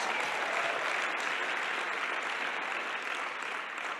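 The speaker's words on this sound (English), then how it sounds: "And give yourselves a round of applause for being here." A crowd at a motivational talk claps steadily, thick and continuous, holding at an even level for several seconds before easing slightly at the end.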